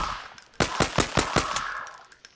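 Automatic gunfire in Garry's Mod: a rapid burst of about six sharp, loud shots in quick succession, followed by a decaying echo with no voices.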